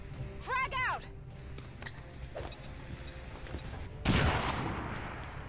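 Grenades exploding in the video game XCOM 2: a few scattered game sounds, then a sudden loud, rumbling blast near the end that lingers as broad noise.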